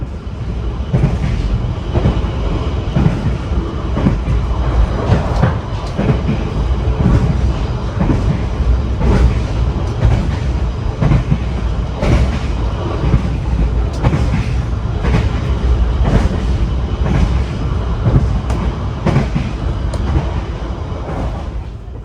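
The Tawang Jaya Premium passenger train rolls steadily along the rails at night, a continuous loud rumble with rhythmic clatter and rattling from the wheels and cars.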